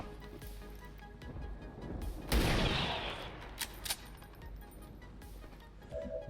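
Gunfire in XCOM 2 Long War of the Chosen: a loud burst of shots around the middle, followed by a few sharp cracks and clinks, with quieter game sounds around; no talk.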